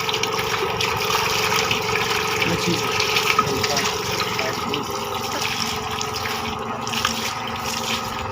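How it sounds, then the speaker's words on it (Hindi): Water flows steadily into a livestock drinking tank at a cattle shelter after a valve is opened, a continuous close rushing and splashing that holds at an even level throughout. "अगर हम उधर से वाल खोल दें तो इसका पानी आना शुरू हो जाएगा।"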